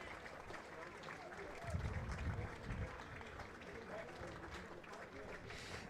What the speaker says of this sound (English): Well, you can hear applause.